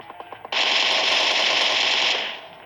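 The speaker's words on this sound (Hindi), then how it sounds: "रोजो के अंदर कुछ गन फाइट की मेरे को आवाज आती है" Sustained automatic gunfire from a PUBG video game gunfight bursts in after a few faint clicks, a loud, dense rattle of rapid shots lasting nearly two seconds before tapering off.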